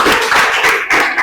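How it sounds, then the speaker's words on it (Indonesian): Students in a classroom clap together in a short, dense burst of applause, loud and close, with no talk over it. "kita beri tepuk tangan untuk kita semuanya"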